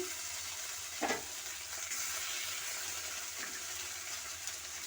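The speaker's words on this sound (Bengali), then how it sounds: "আমি এরপরে আদা আর জিরে বাটা দিয়ে দিচ্ছি" Ginger and cumin paste fries in a pan with a soft, continuous sizzle, with a couple of faint stirring clinks over the low, even crackle.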